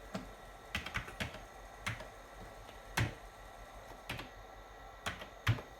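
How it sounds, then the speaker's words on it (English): Keys clack on a Commodore 128 D computer keyboard in sparse, irregular presses, close and crisp against a quiet room. "Oh, the keyboard actually reacted much better."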